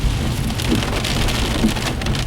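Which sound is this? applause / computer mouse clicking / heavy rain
heavy rain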